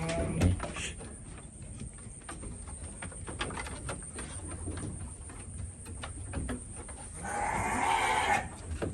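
Garut sheep in a pen bleat and call near and far over a muffled farmyard background, with one louder, longer bleat near the end.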